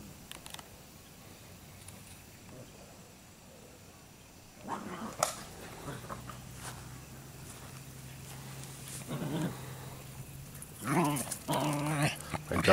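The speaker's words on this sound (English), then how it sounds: "My dogs are playing right by here." Dogs growl and scuffle in play, rumbling snarls and bursts of activity growing louder partway through over a quiet outdoor background.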